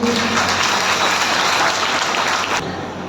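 An audience at a training seminar breaks into loud, dense applause that holds steady for nearly three seconds, then cuts off abruptly into a quieter room.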